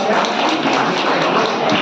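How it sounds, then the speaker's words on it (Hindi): Dense, steady clapping from a crowd fills the whole stretch, loud and continuous without any voices on top. "जोरदार तालियों के साथ स्वागत करिएगा"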